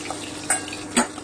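Spice paste fries in oil in a pan while magur fish kalia is being cooked, with a low sizzle underneath two sharp clinks from a spatula striking the pan.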